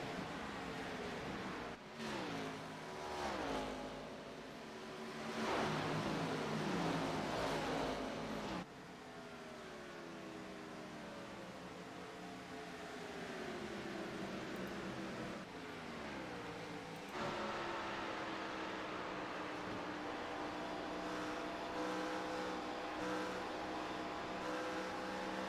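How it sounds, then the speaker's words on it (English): Race cars at the AACS Peachtree 200 at Atlanta roll gradually into the throttle, engines rising in pitch through long revving sweeps as they pass at a moderate distance, one after another with brief gaps. "Just hear how long they're just rolling into the throttle before they're full throttle."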